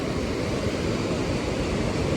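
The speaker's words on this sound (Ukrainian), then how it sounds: "А тут така хвиля сьогодні здоровенна" Big sea waves crashing on a beach, a loud, steady roar of surf mixed with wind buffeting the microphone, continuous throughout with no talk.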